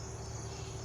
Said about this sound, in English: the lovely sounds of the nighttime chorus of crickets